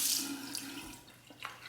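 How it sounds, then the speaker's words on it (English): A few drops of water are added to shaving lather in a Proraso travel shave kit, heard as a brief close trickle and splash from a tap followed by faint wet sounds. "Let's add a little bit of water."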